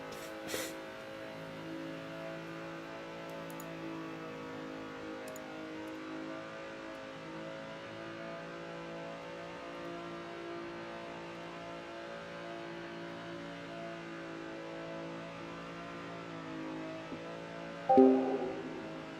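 Car engine in the racing game Assetto Corsa held at a steady drone while the car spins donuts in a drift session, sustained mid-pitched engine tone with a sharper rev burst near the end.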